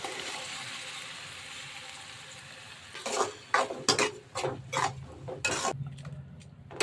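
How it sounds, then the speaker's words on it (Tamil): Ground tomato is poured into onions sautéing in a pan for fish curry, followed by a faint sizzle and several bursts of spoon stirring and scraping against the pot, close by and with no talking. "அரைச்சி வச்ச தக்காளியை சேர்த்துக்கலாம்."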